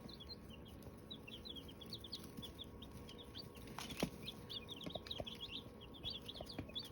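Five-day-old baby chicks in a backyard flock peep in faint, scattered high chirps over a low, rustling background, with no talk.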